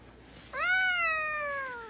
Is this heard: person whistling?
no